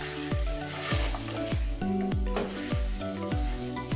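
Tripe frying in a pan is stirred in a steady rhythm, each scrape of the spoon landing over a continuous loud sizzle, close and repeated about every half second.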